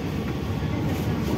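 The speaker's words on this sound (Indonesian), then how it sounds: "Jadi lebih nyaman untuk dinaiki ya kereta ekonomi New Generation seperti ini." Inside a moving Jaka Tingkir economy New Generation train carriage, a loud, continuous low rumble and rattle fill the cabin with no voices.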